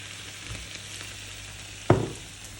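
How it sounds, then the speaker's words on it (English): Vegetables and chicken sizzling steadily in a pan for enchiladas, with one sharp clatter of the utensil against the pan partway through. "And then yet again we're gonna stir it about with all the ingredients."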